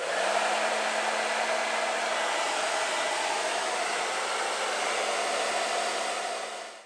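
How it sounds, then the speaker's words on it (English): A hair dryer heats old rubber sill strips on a C5 Corvette to loosen the glue, blowing a steady close whirring rush with a constant low hum that holds for several seconds before cutting off. "we'll use a hairdryer to heat that up"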